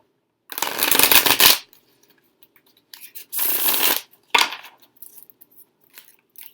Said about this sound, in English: let's go ahead and shuffle our Fool into the deck